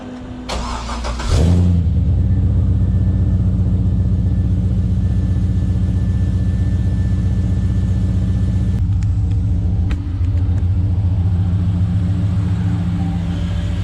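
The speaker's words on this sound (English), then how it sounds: "I'll give you a cold start on her." An LS1 V8 swapped into a Nissan Patrol cold-starts with a brief crank, then settles into a loud, steady, rumbling idle close by that carries on to the end, with no talking.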